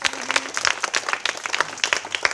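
A classroom of students claps hands together in a short burst of scattered, uneven applause close by.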